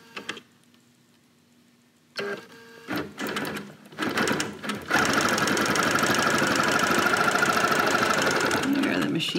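Bernina Q24 longarm quilting machine doing ruler work, starting in short mechanical bursts after a quiet pause, then running steadily with a rapid rhythmic stitching clatter, close and loud.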